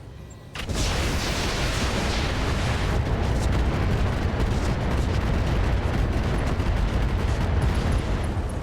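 A missile artillery tank in the RogueTech mech game unloads its weapons in a heavy barrage. A sudden loud onset gives way to a continuous roar of overlapping booms and blasts that lasts several seconds with no talk.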